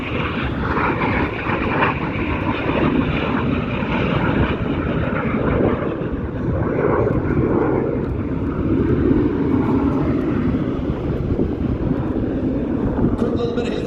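Jet aircraft roaring overhead at the Central Coast Airfest 2023 airshow, a MiG-15 and a Sabre, a sustained loud engine rumble with wind buffeting while an announcer talks over it.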